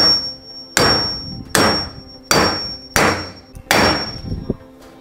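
Five loud, evenly spaced hammer blows strike a bench vise screw during a restoration, each sharp metallic impact ringing and decaying before the next, with no talking.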